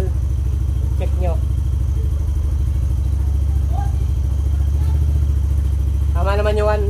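A Yamaha NMAX scooter engine, freshly refreshed and converted from ABS to non-ABS, idles steadily with a loud, even low hum, while a voice speaks briefly over it.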